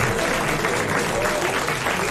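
A studio audience at a 1995 French television quiz show applauds in a brief, steady, even burst of clapping.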